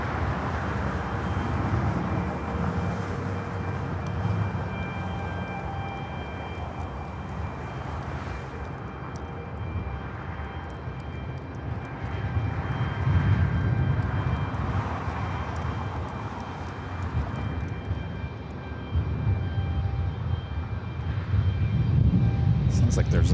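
A KLM Boeing 787 Dreamliner, flight 602 to Amsterdam, roars steadily on takeoff from runway 24 left on the north side of Los Angeles International Airport, a loud sustained broadband jet rumble that swells toward the end, with faint radio-style talk underneath.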